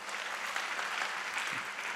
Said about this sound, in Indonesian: Coba tepuk tangan bagi Tuhan.